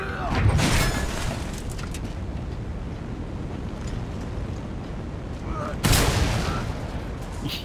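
Two loud blasts in the video game Mad Max, one near the start and one near the end, with a rumbling tail and background noise between.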